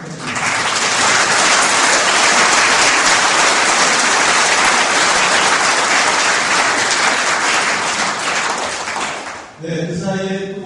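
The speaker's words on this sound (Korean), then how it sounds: "다시 한번 우리 분수경 발표해 주신 선생님께 큰 박수 부탁드립니다." Loud, dense applause from a large audience after a presentation at a political launch ceremony, sustained for about nine seconds before it cuts off and a voice begins speaking.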